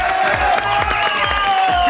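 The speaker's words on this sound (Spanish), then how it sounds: "¿Qué pasó con los aplausos?" A studio audience applauds and cheers in a dense, loud crowd roar, with rhythmic clapping and shouting voices filling the space.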